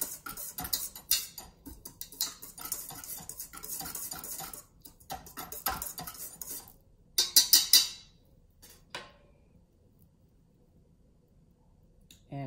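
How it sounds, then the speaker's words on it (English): Sugar and salt whisked together in a bowl, with rapid light scraping and clicking of the whisk in bursts over several seconds, then a short louder flurry before it falls quiet. "I'm just going to whisk that in my bowl a little bit."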